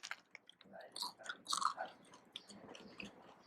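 Someone eats a freshly made spring onion pancake at a night market, with close, quiet chewing and soft crunchy bites repeating irregularly over faint background noise.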